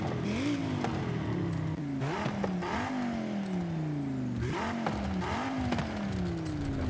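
An Audi RS3 sedan in Forza Horizon 5 revs repeatedly, each burst climbing sharply then sagging back in a series of swooping engine pulls, loud and close with brief gear-shift breaks between rises.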